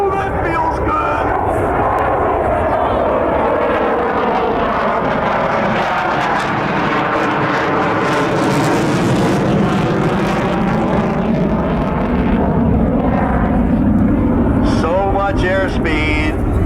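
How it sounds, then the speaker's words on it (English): A military jet on full afterburner roars through a tight, high-drag turn at a 1997 air show at Quonset Air National Guard Base, a loud continuous broadband rumble heard alongside a public-address announcer. "He needs full afterburner to maintain that tight turn."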